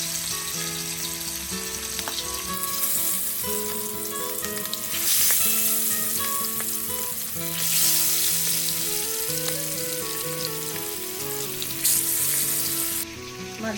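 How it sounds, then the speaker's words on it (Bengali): Hilsa fish sizzles steadily in hot oil in a pan while a khichuri lunch is cooked, with a continuous bright crackle rising in louder bursts under background music. "এখন বসাচ্ছে ইলিশ মাছ ভাজা"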